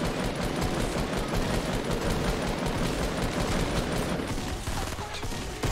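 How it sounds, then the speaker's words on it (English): Dense, continuous rapid gunfire from the Fortnite video game fills the whole stretch, loud and close, with no pauses. "I've been shooting whole clips"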